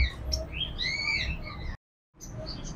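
A pair of yellow ringneck parakeets at a Sunday bird market in Multan gives bright, shrill chirps and rising calls, fairly close against a low crowd murmur, cut off by a short silent gap before a few more calls.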